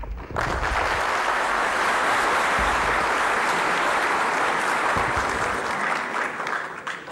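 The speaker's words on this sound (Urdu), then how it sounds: "وقفہ میں نے تالیوں کے لیے دیا تھا" An audience at a political speech event in Pakistan breaks into loud, sustained applause that fills the hall for several seconds before tapering off.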